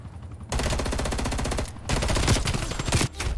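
Rapid automatic gunfire from a weapon in a video game, two loud sustained bursts with a brief gap between them, followed by a short final burst, with no talking.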